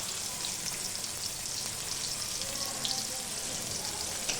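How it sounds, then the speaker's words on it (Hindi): Sliced onions fry in a small amount of hot oil for a village-style mushroom curry, giving a steady, even sizzling hiss at moderate volume with no other sounds on top. "प्याज डाल के भुनेंगे अभी गोल्डन कलर जैसा हो जाए तब तक"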